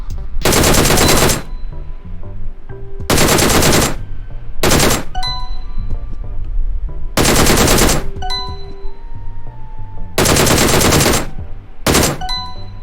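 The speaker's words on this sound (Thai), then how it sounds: "ผมจะปล่อยไปประมาณ ชุดหนึ่งคือไม่เกิน 5 นัด5ถึง6นัดไม่เกิน" Automatic rifle fire from DP and M16 Mini guns in the mobile game PUBG Mobile: loud, close bursts of rapid shots, each lasting one to two seconds, separated by short gaps with faint ringing game effects.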